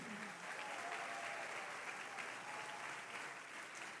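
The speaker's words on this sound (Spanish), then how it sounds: "Yo le daría ese aplauso más fuerte" Continuous applause from a church congregation at a Christian service, broad and unbroken for the whole stretch, heard from a distance at low level.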